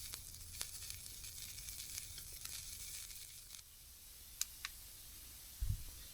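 Heavy precipitation falls on a winter campsite during a storm, a faint continuous crackling hiss with scattered small ticks and pops, steady throughout and without speech.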